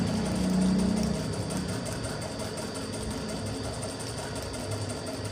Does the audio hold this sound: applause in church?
no